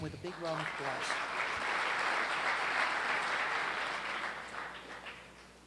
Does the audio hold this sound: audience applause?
yes